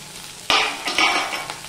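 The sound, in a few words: okra (bhindi) frying in a pan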